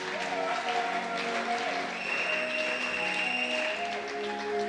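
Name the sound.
church congregation applauding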